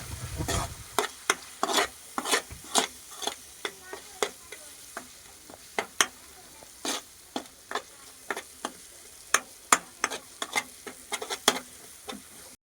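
Gram flour being stirred into a simmering gravy in a pan, a soft background sizzle broken by many sharp, irregular spoon taps and scrapes against the pan, close by.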